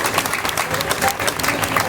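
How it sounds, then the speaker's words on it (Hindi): Audience clapping in a current-affairs class, a dense continuous patter of many hands at moderate distance, with some crowd murmur mixed in. "ताली बजाओ उसके लिए"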